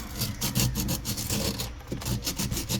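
Sandpaper rubbing hardened plastic on a washing machine drain, a steady, gritty back-and-forth scraping in close, even strokes, heard alone and up close.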